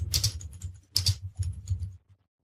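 Quick bursts of typing on a computer keyboard while entering a search phrase into a search box, several close, crisp clusters of keystrokes with brief pauses, then silence.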